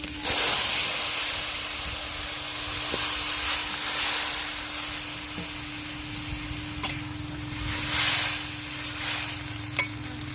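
Spiced masala for a thin fish curry sizzles steadily in a hot pan, a continuous loud hiss with a few sharp pops and stirring scrapes, heard close with no voices.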